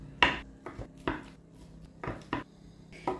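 A knife chops through ham slices on a board, about seven crisp, close knocks in an uneven rhythm with short pauses between them.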